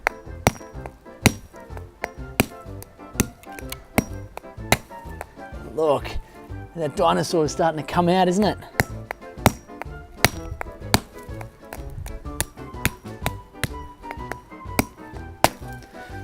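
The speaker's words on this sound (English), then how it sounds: "you can get a big grown-up hammer. We'll just take that off the glass and then you can just start to break it open" Sharp, regularly spaced blows from a big heavy hammer cracking open a homemade dinosaur egg, repeated steadily throughout, with a voice speaking briefly partway through.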